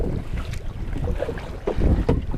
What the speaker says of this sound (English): this is not ideal weather, really windy